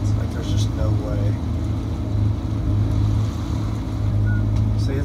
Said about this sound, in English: This engine doesn't run nowhere near as good as the left engine.